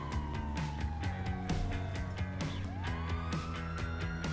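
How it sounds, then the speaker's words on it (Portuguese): A wailing emergency siren in a video game rises and falls steadily for several seconds over a dense, busy game soundtrack with rhythmic thumps, moderately loud throughout. "já tá vindo ambulância aí, tá chegando todo mundo"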